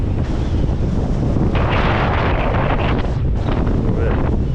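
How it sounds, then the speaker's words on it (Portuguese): Strong coastal wind near Paracas, Peru, roars and buffets the microphone continuously, with broadband gusts swelling louder midway and possible surf or water underneath; a voice may be faintly present. "Olha o vento!"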